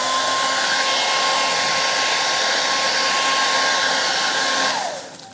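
A hair dryer blows close and loud in a steady whoosh with a thin whine while drying paint on a wooden tile stencil, then cuts off and winds down at the end.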